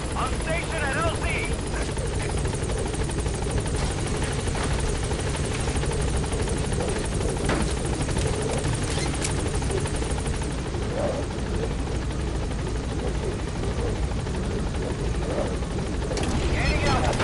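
Support helicopter B-Quad arriving over a landing zone in Metal Gear Solid V, a heavy continuous rotor thrum and engine whine close by, with radio chatter running over it.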